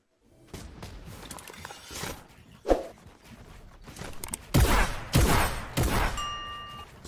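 Gunfire in the Fortnite video game, a run of sharp broadband bursts with a heavier cluster of shots near the end, mixed with thumps and footstep-like sounds at moderate loudness.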